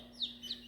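Two quick, high, faint peeps from young chicks, a barred rock among them, close together in a quiet setting with a steady low hum underneath.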